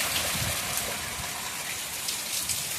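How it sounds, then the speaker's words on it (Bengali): Heavy evening rain pours down just outside an open door, a dense, continuous roar of drops on surfaces, loud and steady throughout with no voices over it. "এই দেখো বাইরে শুরু হয়ে গিয়েছে বৃষ্টি, প্রচণ্ড পরিমাণে বৃষ্টি পড়ছে।"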